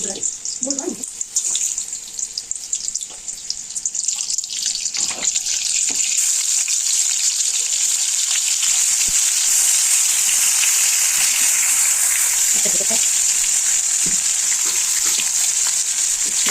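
Marinated hilsa fish dropped into hot oil and frying, starting as scattered spatter and soft speech, then settling into a loud, continuous high sizzle that fills the rest of the clip.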